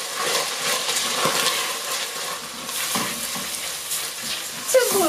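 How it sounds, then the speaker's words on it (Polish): Chopped onion frying gently in a pan over low heat, a steady soft sizzle with occasional stirring scrapes, close and continuous. "Tutaj widzę, że już mogę dodać naszą cebulę. I na małym ogniu podsmażamy."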